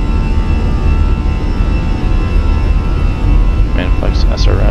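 Airliner jet engines spooling at takeoff power in a flight simulator, a steady loud roar holding throughout with brief higher chirps near the end.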